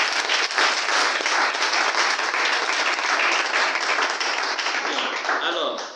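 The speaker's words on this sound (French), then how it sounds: "Est-ce qu'on peut applaudir ça?" Audience at the official launch of a Gabonese teachers' network applauds loudly and steadily for about six seconds, a dense continuous wash of clapping with a few voices mixed in, fading at the very end.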